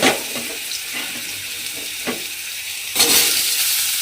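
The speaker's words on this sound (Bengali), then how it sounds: "আলুটা আমি এর মধ্যে দিয়ে একটু নাড়াচাড়া করে ভেজে নেব" Thin slivers of potato drop into hot oil and are stirred, giving a continuous crackling sizzle with faint scrapes that swells sharply louder near the end.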